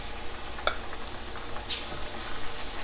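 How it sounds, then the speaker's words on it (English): Plantains fry in a hot pan with a steady, close sizzle, broken by one brief click of a utensil. "you want to get your plantains in here, because those are also gonna take like, you know, like 4 minutes on each side"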